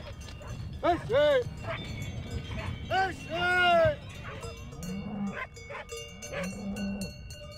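Herd of cows lowing repeatedly on a mountain pasture in the Queyras, several moos near and far, with cowbells clanking softly in the background.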